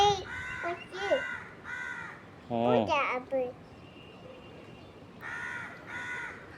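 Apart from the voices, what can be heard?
crow cawing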